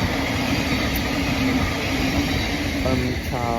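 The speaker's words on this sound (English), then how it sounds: "my train's here now" A train pulls into a station with a loud continuous rumble and rail noise, a brief high tone rising near the end, and no talk over it.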